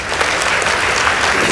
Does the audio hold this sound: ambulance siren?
no